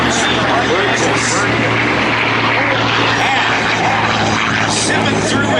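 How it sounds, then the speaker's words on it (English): A Packard-built, Rolls-Royce-designed Merlin engine powering a P-51 Mustang at a military open house airshow, a steady loud droning roar that holds throughout without break, with faint talk over it. "Sipping through in the sound of that Rolls-Royce designed Packard-built Merlin engine is Chris Baranaskas flying the P-51 Mustang"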